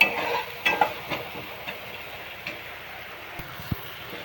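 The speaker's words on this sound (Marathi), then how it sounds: "चांगलं वाटण चांगलं परतून घ्यायचं आहे बघा." Ground masala paste being sautéed and stirred in a pan for a capsicum and potato curry, a soft continuous sizzle with irregular scraping taps of the spoon against the pan.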